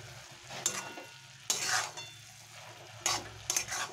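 Khesari greens stirred in a pan, quiet sizzling punctuated by several distinct scraping strokes of a utensil against the metal, with brief pauses between them.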